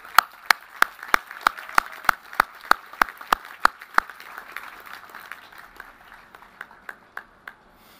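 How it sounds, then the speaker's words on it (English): Sparse, evenly spaced hand claps from a small audience at a St. Francis College graduation ceremony, crisp and fairly close, thinning and slowing toward the end. "Let's give them a round of applause."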